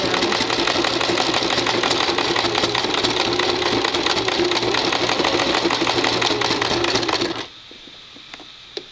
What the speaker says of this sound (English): what I'm doing is I'm sewing this and taking out the needles as I go